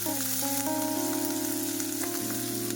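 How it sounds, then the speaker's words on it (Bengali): Ginger and chopped chili fry in hot oil with whole cumin seeds, a steady close sizzle running beneath sustained tonal music with no pauses. "এবার এই তেলেই দিয়ে দেবো গোটা জিরে ফোড়ন দিয়ে গন্ধ চাললে দিয়ে দেবো গ্রেট করে রাখা আদা আর লঙ্কা কুচি হালকা ভেজে নেবো"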